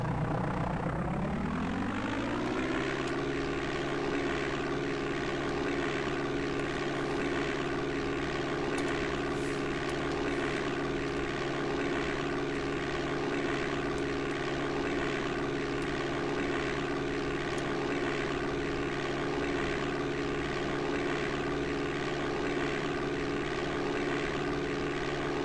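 A propeller aircraft engine in DOS Flight Simulator 5.1 spools up within the first few seconds and then holds a loud, steady droning roar with a constant pitch, sitting on a grass runway.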